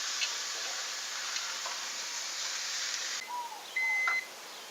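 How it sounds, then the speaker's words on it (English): A kitchen timer alarm signalling that grilled marinated steaks are done, giving short electronic beeps and a sustained tone over steady background hiss from the cooking area. "That's my alarm. The steaks are ready."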